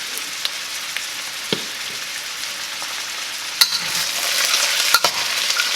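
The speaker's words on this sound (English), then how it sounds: "We're just going to mix these around." Potatoes and peppers sizzling in a pan for a breakfast sausage hash, a steady close frying hiss broken by a few sharp scrapes and clicks of stirring.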